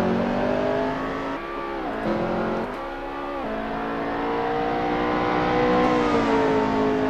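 A McLaren MP4-12C GT3 race car at Circuit St-Jovite (Mont-Tremblant) in Assetto Corsa holds a loud, high engine note that dips and surges as it drifts, revving steadily through the whole stretch.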